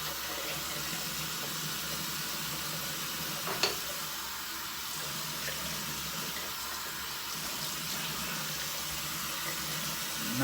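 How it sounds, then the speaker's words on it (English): Water runs steadily from a tap and splashes in a sink as a man wets his face while shaving with a Gillette razor, a constant hiss with one brief louder splash. "let's go ahead and splash some water on my face with the razor rinsed out"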